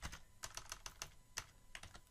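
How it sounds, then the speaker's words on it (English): Quick, light keystrokes on a computer keyboard, a rapid irregular run of clicks close to the microphone, fairly quiet with no talking. "So let's start typing in some text here."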